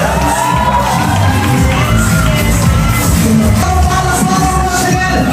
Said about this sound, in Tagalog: Palakpakan na may sigawan!